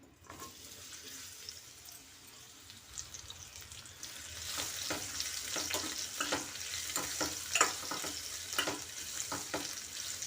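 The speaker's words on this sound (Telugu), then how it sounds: "సొరకాయ ముక్కలను ఫ్రై చేద్దాం" Bottle gourd pieces fry in a kadai, starting as a faint hiss that swells after a few seconds into a brighter, busier sizzle with irregular spoon scrapes and clinks, close by and with no speech.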